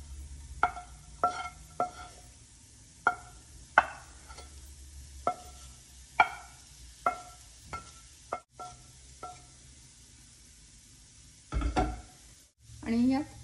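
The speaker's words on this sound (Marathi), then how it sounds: "आपण आता हे जे भाजलेले आहेत मशरूम ते घालणार आहोत यात." Roasted mushrooms are added to a frying pan with pepper and stirred, giving a soft sizzle under a series of sharp scraping and clinking stirs spaced about a second apart, with a louder clatter near the end.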